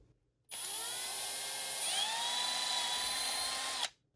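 A small high-pitched drill with a 0.062 bit whines steadily for about three seconds while drilling a transmission part, its pitch dipping slightly as the bit bites in, then stops abruptly.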